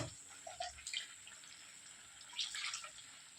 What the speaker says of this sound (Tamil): மிக்சி ஜார் தண்ணி கழுவி ஊற்றிக்கிறோம்